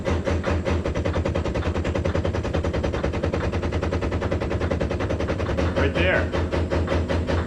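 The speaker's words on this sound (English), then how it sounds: "You can hear the air pump working easier." An air pump raising the cab of an LMTV military truck, a steady rapid mechanical chugging with an even pulsing rhythm, loud and close throughout, with a brief spoken remark near the end.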